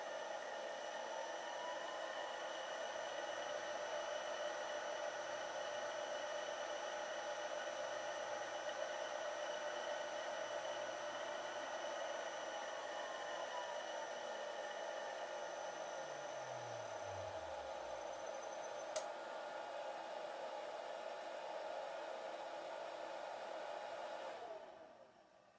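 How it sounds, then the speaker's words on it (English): A 3kW VEVOR spindle motor runs with a steady high whine, then decelerates with a falling hum, and the sound cuts out near the end. "The spindle is first decelerated until it stops and then accelerated in the opposite direction to"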